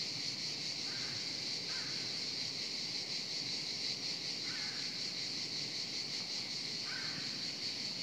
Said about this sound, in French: il y a un corbeau qui chante.